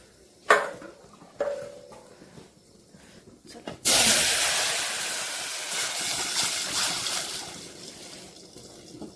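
Spiced tempering of turmeric and cumin poured into water in a kitchen, giving a sudden loud hiss that fades over several seconds after two sharp utensil clanks, with brief talk around it.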